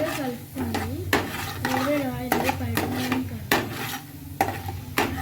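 Upma semolina being stirred with a ladle in a pan, giving a steady scraping and clinking against the metal with occasional sharp taps, close up while someone talks over it throughout.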